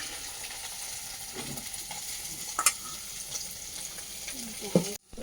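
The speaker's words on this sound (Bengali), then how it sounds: "লাল লাল মাছ ভাজা।" Fish frying red-brown in a pan gives a steady, moderate sizzle with stirring and a few sharp clinks and scrapes, ending in a brief cutoff, with no talking.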